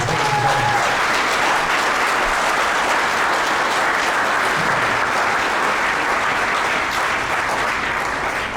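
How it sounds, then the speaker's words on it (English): A hall of fame induction ceremony audience applauds steadily, a dense wash of clapping from many hands that holds at an even loudness for several seconds with no one speaking over it. "how about a nice round of applause for these people?"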